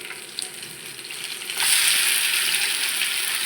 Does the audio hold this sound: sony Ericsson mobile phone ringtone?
no